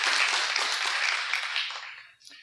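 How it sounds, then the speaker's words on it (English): Round of applause for state legislators at a community economic development plan unveiling, a dense burst of clapping that tapers off quickly, with a faint voice at the end. "Please give them a round of applause."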